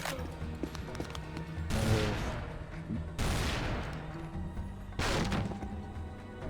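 Gunfire in Tomb Raider: Legend, several loud bursts of shots arriving in spaced clusters with thuds between them, close and punchy, no talking.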